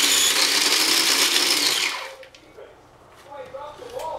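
A food processor whirs loudly as it purees habanero peppers and ginger, a steady close motor drone that cuts off after about two seconds, followed by quieter handling noise and a voice.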